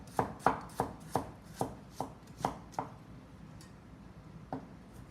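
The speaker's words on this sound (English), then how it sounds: "I just chop them into really small pieces and put it in" Celery stalk being chopped into small pieces on a board at home, about a dozen crisp knife strikes in an uneven rhythm, loud and close at first, then thinning and fading toward the end, with no talking.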